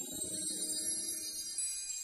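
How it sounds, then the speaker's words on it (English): Chimes from the stem of a Christmas song, a sparse, high shimmering ring sustained over soft low musical notes, quiet and isolated. "So there's some chimes"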